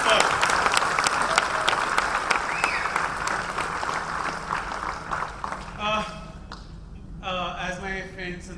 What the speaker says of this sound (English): ladies and gentlemen, can we have a round of applause for Sandeep?